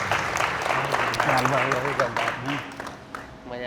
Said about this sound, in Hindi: एक बार जोरदार ताली बजाइए आप लोग